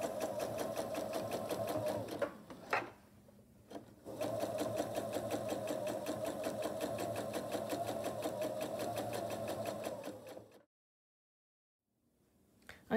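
A sewing machine quilts a fleece and flannel quillow at a long stitch length. It hums steadily for about ten seconds with one short pause, then stops into silence.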